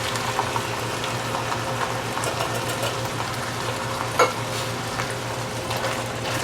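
Diced tomatoes being stirred into a stovetop onion and pepper chili, a continuous wet sizzle and bubbling with soft scraping, one brief clink, and a low hum underneath.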